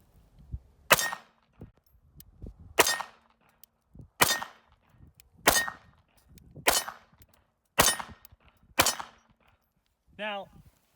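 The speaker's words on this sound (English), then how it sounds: "I had my wife shoot the gun" Seven sharp gunshots from an S&W Shield .380 EZ pistol crack out at irregular intervals, each a loud, short report with a brief ring, followed by a short clattering sound at the end.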